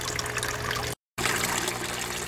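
Water trickles and splashes through a homemade swirl filter in a hot tub aquaponics setup, a close, steady gurgling broken by a short silent gap.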